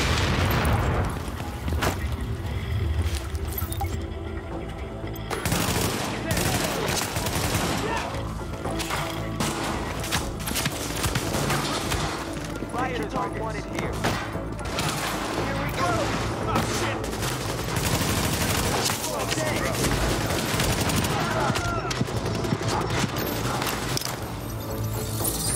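Sustained, busy gunfire crackles and booms through a dense, loud soundscape in the video game The Division, with scattered bursts and mechanical clatter running throughout.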